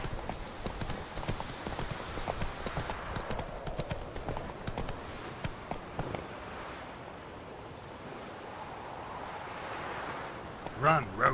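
Roach, a horse in The Witcher 3, gallops with rapid, steady hoofbeats on the ground, loud and close, with ambient water or surf noise underneath and a brief sharper sound at the end.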